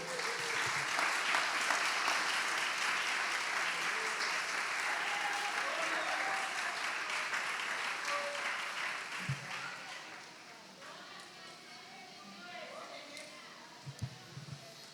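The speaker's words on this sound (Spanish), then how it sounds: "Denle un aplauso a Cristo." A church congregation applauds during a sermon, with a thick, lively clapping and cheering that dominates at first, then thins into scattered claps with murmuring and a few thumps as voices emerge beneath it.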